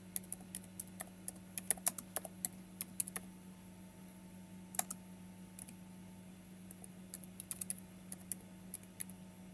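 Sparse, quiet keystrokes tap on a computer keyboard as a command is typed, irregular clicks over a low steady hum in a quiet room.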